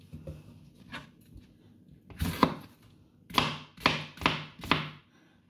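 A knife slices vegetables for gazpacho on a cutting board: a few light taps, then four firm, evenly spaced chops close by, with no talking.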